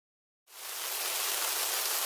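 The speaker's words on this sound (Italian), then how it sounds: "Oh, piove!" After a moment of silence, steady rain abruptly starts, a dense, even hiss of falling drops that holds at a constant level with no voices.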